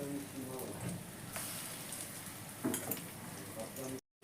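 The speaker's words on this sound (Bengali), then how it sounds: "তো চলো পকোড়াগুলোকে এইভাবে আমি আস্তে আস্তে ভেজে নিই।" Fish roe pakoras frying in hot oil, a continuous crackling sizzle with a few utensil clinks and stirring scrapes, close and steady until it cuts off abruptly near the end.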